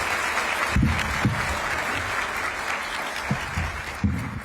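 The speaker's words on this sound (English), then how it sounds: "And one more round of applause for the founders of the dinner group and the women's dinner group." An audience claps for the founders of the dinner group and the women's dinner group at a conference, a sustained round of applause with a few louder thumps mixed in.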